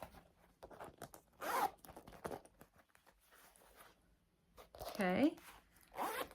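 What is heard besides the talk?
zipper on a purse pocket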